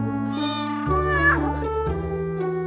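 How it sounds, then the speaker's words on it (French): A single cat meows in a medium-length, drawn-out, wavering tone, rising and falling over a few seconds, close and clear with no other sounds. "Un miaulement de durée moyenne peut signifier qu'il veuille de l'eau ou de la nourriture"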